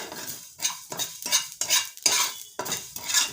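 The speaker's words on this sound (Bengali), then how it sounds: "কড়াইতে দিয়ে অনবরত নাড়তে থাকতে হবে" A utensil scrapes around a hot wok, dry-roasting fenugreek and black mustard seeds in about seven brisk, evenly spaced strokes, with a light sizzle underneath.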